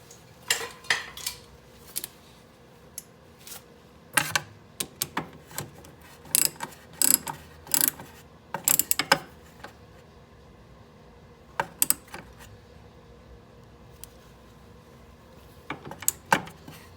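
Someone tightens the rear differential fill plug on an Arctic Cat with a ratchet, producing bursts of sharp metallic clicks in short runs separated by quiet pauses.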